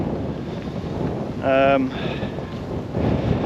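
Blustery wind rumbles continuously across the microphone while a voice briefly calls out in the middle of the clip.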